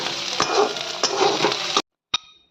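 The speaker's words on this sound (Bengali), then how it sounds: "এখানে পটল ভাজা করছি একদম মশলা" Pointed gourd (potol) frying with spices in a home kitchen pan, a steady close sizzle with stirring scrapes at intervals, cutting off abruptly before one last brief clatter.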